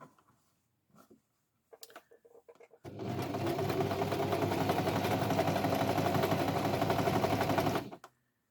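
A sewing machine stitches quilt squares for a scrap-busting curtain quilt, starting after a few light handling taps and then running steadily for about five seconds with a close, even whirring buzz before stopping.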